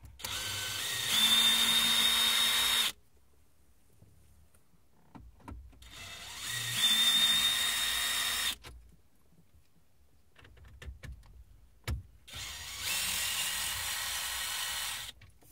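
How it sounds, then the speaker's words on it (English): A power screwdriver backs screws out of a car dashboard panel during an Audi MMI Plus CarPlay installation, three close whirring bursts of a few seconds each separated by quiet handling clicks. "power screwdriver, let's call it. To remove these 4 screws."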